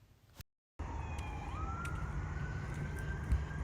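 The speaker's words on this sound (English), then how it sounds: "why are there sirens going off?" Emergency sirens wail at a distance outdoors during a dog walk, a faint rising and falling tone over steady background noise after a brief dropout.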